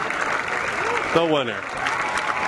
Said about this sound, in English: Big crowd cheering him on.